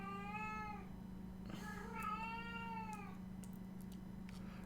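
A pet cat meows repeatedly for more food, two long, clear drawn-out calls close by over a steady low electrical hum, followed by faint clicks and a quieter room.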